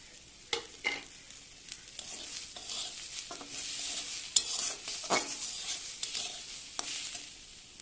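Lentils lightly fried with a little salt, turmeric, cumin and coriander powder give a soft, steady sizzle, with scattered scrapes and taps of a spoon stirring them around the pan.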